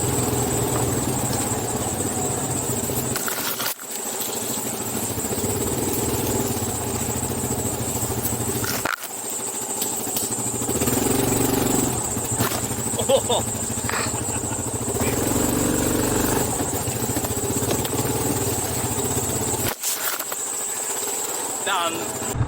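A Yamaha Grizzly ATV engine runs steadily in gear on a forestry road, a continuous close engine drone with a few brief dips, under occasional talk.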